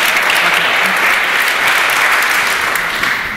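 A panel session audience at a science-fiction and Mars discussion gives loud, steady applause, close and continuous throughout with no pauses.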